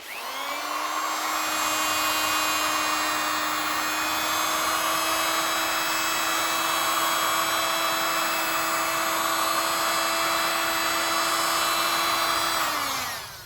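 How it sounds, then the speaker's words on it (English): A loud, steady mechanical whine with a constant high-pitched drone runs unbroken for about twelve seconds, then cuts off: a heat gun blowing close by, warming car paint on a wheel arch. "please excuse the heat gun, it's very loud. So you want to warm the paint up."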